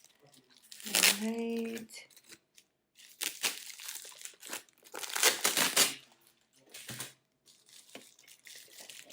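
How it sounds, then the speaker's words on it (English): A packaged item comes out of the bottom of an art-supply box, a watercolor palette case, with loud close crinkling and tearing of wrapping in several bursts; a voice speaks briefly near the start. "So let's unwrap it quickly."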